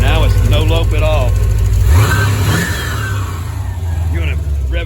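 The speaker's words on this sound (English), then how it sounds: "revving it up for me here off the cruise control" A Paxton-supercharged C4 Corvette with a ZZ3 5.7 engine revs up, its engine note rising and then falling back to idle, close and loud, while someone talks over it.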